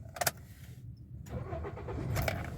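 A Toyota Corolla with an engine misfire and pickup fault starts up: a brief cranking burst, a pause, then the engine catches and settles into a rising, steady idle rumble.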